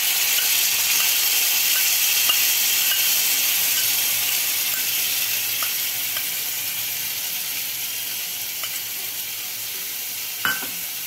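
Cauliflower leaf paste, ground in a mixer, sizzles steadily in hot oil in a wok with nigella seeds and chilli, a constant close frying hiss with a few faint clinks of stirring.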